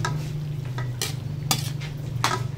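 Utensil stirring egado, a Filipino stew with bay leaf and pepper, in a pan: a few short scraping strokes over a steady low hum, close and moderately loud, with no one talking.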